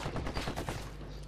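Burst of gunfire from Ghost Recon Wildlands, several sharp shots in quick succession, fairly loud and close, in a Narco Road mission.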